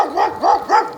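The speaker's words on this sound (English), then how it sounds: "These dogs, they just start barking out of nowhere" A dog barking three times in quick succession outdoors, sharp and fairly close, evenly spaced.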